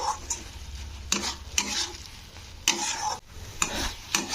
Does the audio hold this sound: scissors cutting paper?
no